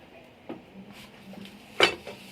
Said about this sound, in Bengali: দিয়ে কড়াইটা চাপিয়ে দেব।